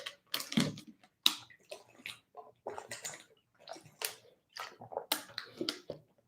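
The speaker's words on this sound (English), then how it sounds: "Let me drink some water first." Someone drinks water in small sips and swallows, with wet gulps and faint clicks of the mouth and container close to the microphone, quiet and irregular with pauses between.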